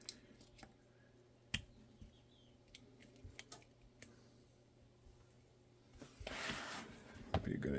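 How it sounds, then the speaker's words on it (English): Tape pulled and pressed onto an accessory bracket during blocking work, a quiet run of sharp clicks and crinkles with a louder ripping, rustling stretch near the end. "So let's just get this all taped up."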